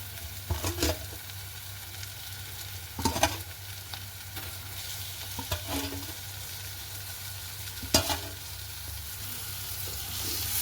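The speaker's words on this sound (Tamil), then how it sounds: "சேர்த்து அதையும் வடிவாக இதோட இருக்கா கிளறி விடுவோம்" Fried eggs being stirred into a sizzling egg devil in a pan, a quiet continuous sizzle punctuated by four or five distinct scraping stirs and knocks of the spoon, nearby with no talking.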